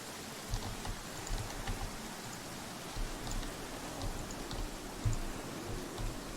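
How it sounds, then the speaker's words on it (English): Heavy downpour of rain in a video game, a dense, steady roar of falling water with scattered drop impacts, continuous and fairly loud throughout. "Now that's a downpour"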